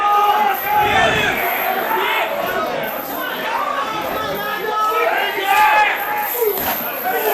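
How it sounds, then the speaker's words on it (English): A crowd at a wrestling show chants in loud, rhythmic waves of shouting voices, with chatter mixed through it. "this crowd chanting that was sexy for Ryan Slade"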